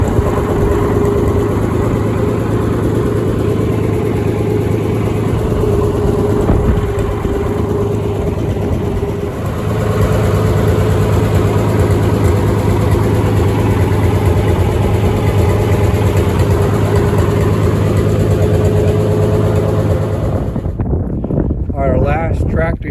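A John Deere 656 tractor engine runs steadily at low idle on an old farm, a loud continuous rumble with wind buffeting the microphone, cutting off abruptly near the end.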